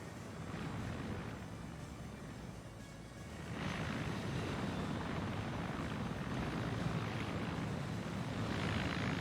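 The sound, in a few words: helicopter flying in a video game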